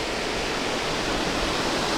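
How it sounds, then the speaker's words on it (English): Two-level waterfall in Gros Morne National Park, Newfoundland, a steady, loud, broadband rush of falling water heard up close with no voices. "So it's basically a two-level fall, with this being the second level."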